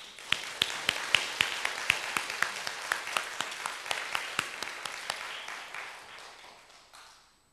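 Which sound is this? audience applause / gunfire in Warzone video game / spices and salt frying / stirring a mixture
audience applause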